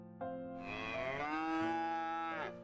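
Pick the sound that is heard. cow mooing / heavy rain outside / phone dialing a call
cow mooing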